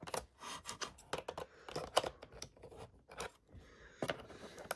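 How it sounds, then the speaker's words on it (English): Scissors snip and scrape through plastic packaging while a Transformers Rise of the Beasts Weaponizer toy is unboxed, producing quiet, irregular clicks and cuts close to the microphone with no talking. "If I can get the scissors over it."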